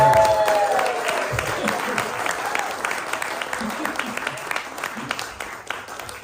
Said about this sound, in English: Let's give her some exit applause